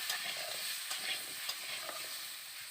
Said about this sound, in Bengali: আলুটাকে প্রথমে একটু নেড়ে নিচ্ছি